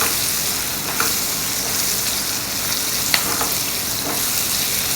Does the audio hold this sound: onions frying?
yes